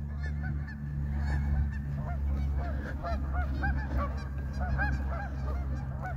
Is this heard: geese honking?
yes